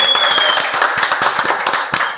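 Applause for guest Rodrigo Silva on a Brazilian podcast, a dense and loud burst of many hands clapping together, steady throughout with a brief high tone at the start.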